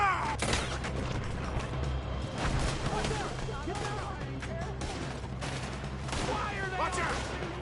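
Rapid, overlapping gunfire from a Red Dead Redemption 2 shootout crackles steadily throughout, dense and loud, with shouted voices breaking through the barrage.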